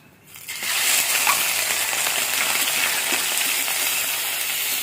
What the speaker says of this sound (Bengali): তেলটা পুরোপুরি গরম হয়ে গেছে, এবার চিংড়ি মাছগুলোকে পুরোপুরি ভেজে নেব